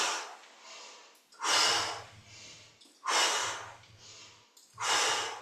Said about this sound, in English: Blowing and then breathing in through your nose.